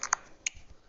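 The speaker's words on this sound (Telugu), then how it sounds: "అది ట్విక్ అనే సౌండ్ వచ్చేసి మనకు అది ఆఫ్ అయింది వాయిస్ ఇన్పుట్" A phone keyboard's voice input switches off with a few quick, faint tick sounds in a short, quiet moment.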